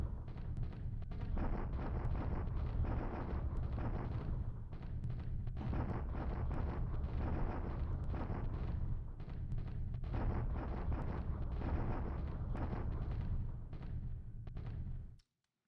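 Massed artillery fire from dozens of guns in the War in the Pacific strategy game rolls on as a continuous, loud, booming rumble of overlapping blasts for about fifteen seconds, then cuts off abruptly.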